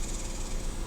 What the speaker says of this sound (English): You hear them cicadas in the trees, man.